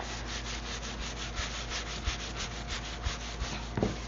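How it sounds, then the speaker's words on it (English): A stiff-bristled scrub brush rasps back and forth across a surface in steady strokes, close and fairly quiet, with a few small knocks near the end and no talking. "This scrub brush I got from the dollar shop."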